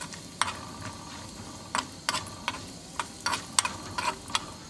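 Cumin seeds, cashews and Kashmiri chilli fry in desi ghee while being stirred. Quiet crackling runs underneath, and about a dozen distinct spatula scrapes and clicks come at an uneven rhythm.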